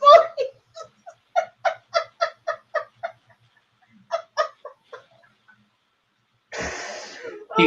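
A person coughs in a rapid series of short, dry hacks, pauses, coughs a few more times, then lets out a longer, harsh raspy burst, all close up with no other sound.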